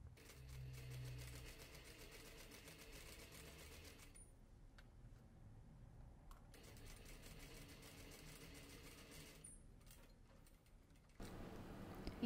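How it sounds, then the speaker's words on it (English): Sewing machine running fairly quietly, joining the lower back of a dress with dropped shoulders to its waistband, a soft continuous rattle with short pauses. "We're stitching the lower part of the back to the waistband."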